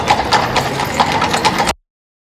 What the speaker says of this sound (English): There are just a few horses and buggies for sale.